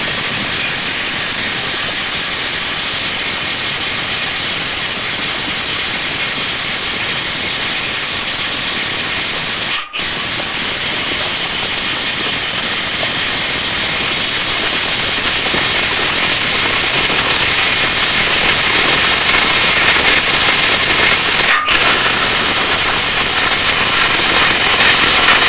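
An XAPR AP80PROMAX cordless impact wrench runs flat out at full speed, a loud, steady high-pitched whirring hiss that continues almost unbroken, briefly cutting out twice, with no talk.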